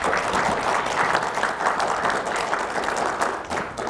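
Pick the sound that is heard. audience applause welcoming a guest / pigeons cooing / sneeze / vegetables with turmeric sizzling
audience applause welcoming a guest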